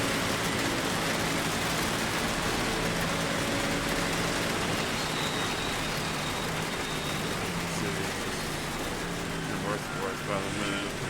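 Rain heard from inside a car driving toward Daytona, a steady loud hiss of spray and road noise mixed with engine rumble and passing vehicles, with speech over it.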